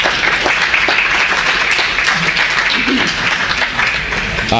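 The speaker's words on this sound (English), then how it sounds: "Everybody applaud for Sujata" An audience at the ACCA USA AGM 2014 applauds for the event's organizer, a dense, steady wash of many hands clapping at full loudness from start to finish, with a brief voice rising near the end.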